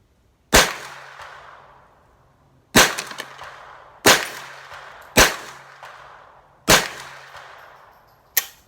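Six sharp .22 LR rifle shots with CCI Blazer ammunition ring out at irregular intervals, each a loud crack with a short decaying tail, out on a range with no talking.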